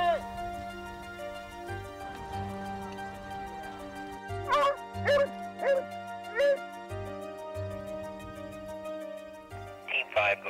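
Search and rescue field and trail dogs working a scent, giving short yips and whimpering barks in small clusters over a steady electronic hum, with radio-like tones in the background.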